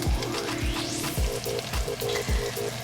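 Antelope shank searing in a hot pan, giving a steady crackling sizzle with sharp spits and pops spread across the whole stretch, close and clear with no talking.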